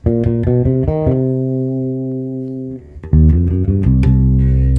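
A bass guitar plays a bluesy riff in C from the verse of a song: a few quick plucked notes, a long held note, then a heavier run of low notes, played alone.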